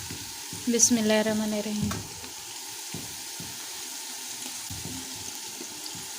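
Spices hit browned onions and garlic frying in a pan, giving a burst of sizzling and stirring early on, then quieter crackle with occasional clinks; a voice speaks briefly near the start.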